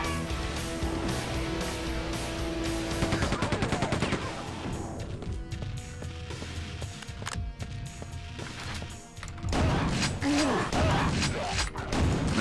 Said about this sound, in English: This super shotgun too.